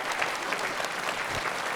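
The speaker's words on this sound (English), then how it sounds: "Let's give them a round of applause." An audience at a multiple sclerosis summit applauds, a dense, even burst of clapping from a seated crowd, moderately loud and continuous.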